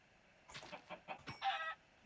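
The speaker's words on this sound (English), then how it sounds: "we've got chickens here" Chickens clucking in Minecraft, a short burst of soft, quiet clucks running about a second with no talk over it.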